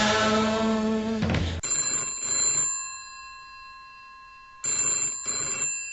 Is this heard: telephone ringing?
yes